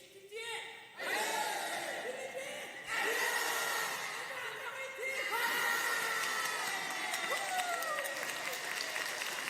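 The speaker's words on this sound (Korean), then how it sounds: "한국 국기원 시범단들이 연습해서 이렇게 함성도 외쳐주셨습니다" A crowd at a Kukkiwon taekwondo demonstration claps and cheers in loud, energetic bursts, with laughter and whoops rising over the noise in a series of waves.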